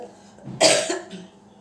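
A single close cough rings out partway through, preceded by a soft throaty sound and followed by quiet.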